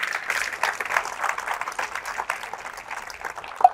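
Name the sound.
congregation applauding in church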